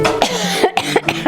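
Several harsh coughs and throat clearings from a croaky adult, close and loud, in quick bursts over about a second, with no talking.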